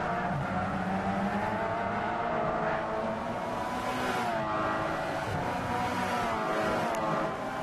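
Race cars lapping Spa in Gran Turismo 6, with a loud, continuous engine drone that rises and falls and hints of tire squeal, with no voices.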